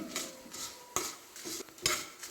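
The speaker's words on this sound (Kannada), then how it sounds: "ಸ್ವಲ್ಪ ಎಣ್ಣೆ ಹಾಕಿ ಇದನ್ನು ಚೆನ್ನಾಗಿ ಹುರಿಯಬೇಕು ಮೆಂತೆ ಕೂಡ ಅಷ್ಟೇ" Fenugreek seeds frying in a little oil in a pan, heard as soft sizzling with a few close metallic clinks and scrapes of a spoon stirring, brief and fairly quiet.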